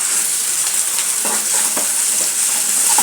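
Ginger garlic paste frying in hot oil with onions for a chicken and ridge gourd curry, a loud bright sizzle with intermittent stirring scrapes and clinks, close and continuous without speech.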